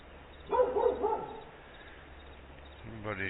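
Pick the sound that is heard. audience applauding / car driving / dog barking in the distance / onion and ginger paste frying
dog barking in the distance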